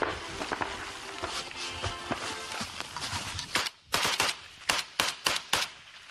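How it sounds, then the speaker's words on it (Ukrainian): Return gunfire rings out from trench positions in a frontline war zone, a rapid burst of loud shots followed by a series of sharp, separate cracks, close and reverberant. "Наші вимушені відкрити зворотній вогонь у відповідь."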